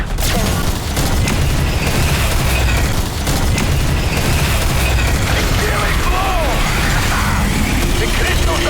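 Aether crystals blowing apart in Call of Duty Zombies, heard as a loud, dense wall of booming blasts and crackling debris that runs without a break, with mechanical clatter layered underneath.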